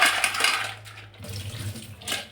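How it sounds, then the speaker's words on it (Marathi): Water splashes and pours briefly, with a sloshing swirl as crabs are rinsed in a container, then a short gurgle; close and fairly loud. "चार पाच वेळा पाण्याने धुवायचं आहे"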